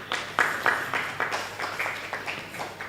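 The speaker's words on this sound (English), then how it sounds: "Please give him a round of applause" An audience claps for the CEO of VM Group at a media launch: a sparse, moderate round of individual hand claps, fairly close, steady in rhythm and gradually tapering off.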